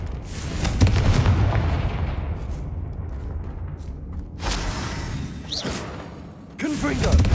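Confringo fire-blast spells go off in Hogwarts Legacy, set in a goblin mine: hissing, rumbling game ambience builds into two sharp broadband blasts a couple of seconds apart, with a brief whooshing streak between them.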